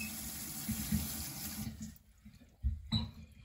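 Tap water running into a ZENY portable washing machine tub as it fills to the fill line, a steady close gush that drops away, then brief splashing and trickling.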